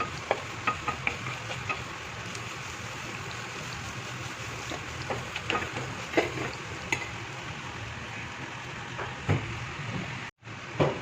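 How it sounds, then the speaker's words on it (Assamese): Banana flower fritters frying in hot oil, a continuous bubbling sizzle with occasional crackles and pops rising over the steady hiss for the full stretch, close by and fairly quiet. "আমি একদম ৰঙা ৰঙৰটো ভাজিম"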